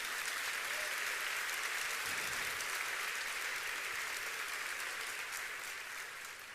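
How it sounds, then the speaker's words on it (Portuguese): A church congregation applauding during a sermon, a faint, distant wash of many hands clapping that holds steady, then fades slightly near the end. "Se é para Jesus, você pode aplaudir."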